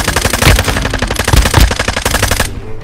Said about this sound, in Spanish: Pero estoy disparando.